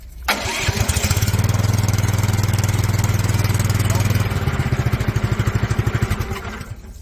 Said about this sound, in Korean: 차량의 초크를 닫아 주신 다음에 키로 RP, 스로틀 레버를 중간에 맞추시고 키로 시동을 거시면서 초크를 열어 주시면 됩니다